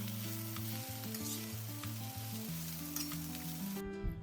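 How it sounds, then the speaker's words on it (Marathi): Coriander stems and chopped tomatoes sizzle in a pan over a low flame as they are stirred into a paneer butter masala base. A steady, close frying hiss runs throughout, with tonal background music underneath. "फ्लेम लो ठेवून आपण हे व्यवस्थित मिक्स करून घेऊया."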